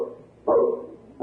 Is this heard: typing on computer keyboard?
no